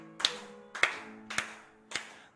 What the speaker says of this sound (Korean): 우리 힘차게 우리 박수 치면서 힘차게 찬송하겠습니다